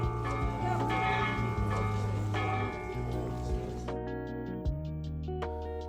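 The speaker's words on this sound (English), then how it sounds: "there's even an origami bell in the middle of it that you can ring to pay your respects" An origami bell at the Hiroshima peace monument is rung, its bright chime sounding twice over steady outdoor ambience and a low hum, with ringing partials lingering after each strike.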